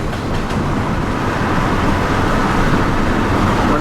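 A CSX freight train led by heritage unit 3194, painted to honor law enforcement, rolls past with a loud, steady, close rumble and rail noise that holds for several seconds, with no talking.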